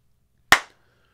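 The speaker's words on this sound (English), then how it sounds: "Can I clap?" A single sharp hand clap, close and loud in a quiet room, with a short fading tail.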